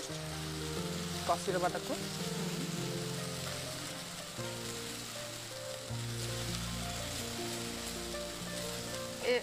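Poppy seed paste (posto) sizzles steadily in a frying pan beneath background music, with someone talking over the gentle, continuous frying.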